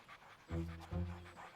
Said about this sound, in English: You have 2 dogs?